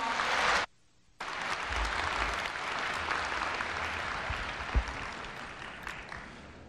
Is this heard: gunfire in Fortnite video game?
no